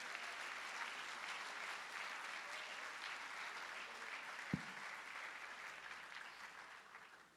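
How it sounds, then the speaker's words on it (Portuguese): A church congregation applauds steadily at a moderate distance, a dense, even wash of clapping for several seconds with a single soft thump midway before it begins to taper. "Vocês podem dar uma salva de palmas para Jesus?"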